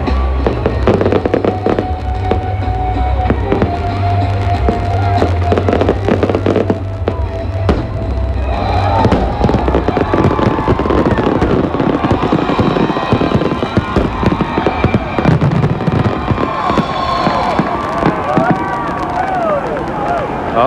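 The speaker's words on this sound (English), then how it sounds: "The fireworks" New Year's Eve fireworks over the Hacienda hotel implosion in Las Vegas crackle and boom continuously, with dense overlapping bursts and a low rumble beneath a murmuring crowd.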